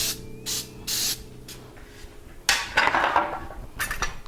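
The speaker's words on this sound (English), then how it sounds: "And we're going to spray our pan." Cooking spray hisses onto a cookie baking pan in a home kitchen, in several short loud bursts between quiet pauses and clinks of the can and pan, with one longer spray near the end.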